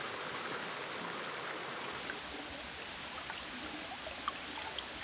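A river, the Omilinga, flowing deep in a forest gives a steady, even wash of running water that holds a constant level throughout, with a few faint splashes or drips near the end.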